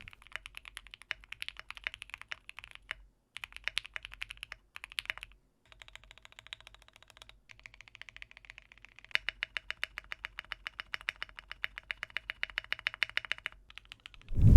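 Rapid clacking of an Akko MOD008 mechanical keyboard being typed on, bursts of crisp keystrokes with short pauses, then a long steady run of fast typing, close up.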